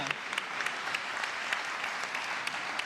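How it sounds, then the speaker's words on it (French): Audience applause at a Geneva wine event, dense steady clapping from a room full of people, moderately loud and continuous throughout. "Je crois qu'on peut l'applaudir"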